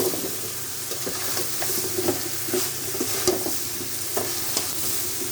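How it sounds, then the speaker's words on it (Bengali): Okra tossed into spice masala frying in a pan, with a continuous close sizzle and repeated scraping stirs, no voices. "এখন আমি ভেন্ডিটা দিয়ে দিব এবং ভালো কি হয়েছে, মশলাটা ভাজা ভাজা হয়েছে"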